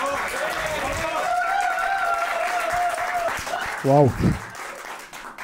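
Comedy club audience applause and crowd noise rumble under a performer speaking at a stand-up show, with a brief exclamation near the end.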